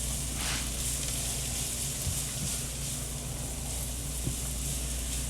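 Food sautés in butter in a pan with a steady, close, bright sizzle and hiss that runs without a break, with a few faint clicks of stirring underneath.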